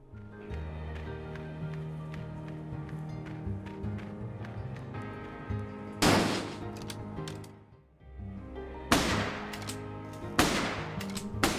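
Ranged weapon shots in the fantasy game Legends of Aethereus crack out in loud bursts over steady game music, a few isolated clusters of shots separated by calmer stretches.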